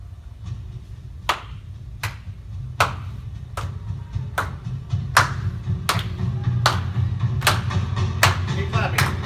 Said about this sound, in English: I want everybody to clap on each of the 3 beats.